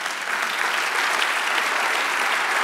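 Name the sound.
church congregation applause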